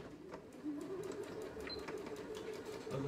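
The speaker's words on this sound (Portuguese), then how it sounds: "Tô costurando no risco certinho em cima." A sewing machine runs steadily, stitching along a marked line on fabric for a handmade toy monkey, with a continuous close whirring hum throughout.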